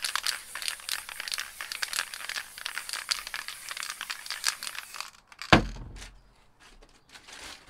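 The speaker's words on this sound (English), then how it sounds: "Plastic bag crunched up for your texture." Plastic bag being crunched up for spray paint art texture, dense crinkling and crackling close to the mic for several seconds, then a sharp thud and a few scattered rustles as it settles.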